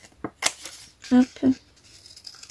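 Scissors snip through paper in a few quick, close crisp cuts during scrapbook crafting, with brief bits of voice in between.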